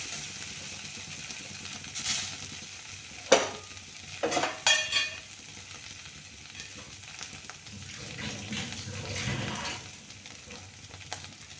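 Grated potato is stir-fried in a pan. A soft, steady sizzle runs throughout, with a few louder scrapes and knocks of a spoon against the pan in the middle and a gentler stirring swell later.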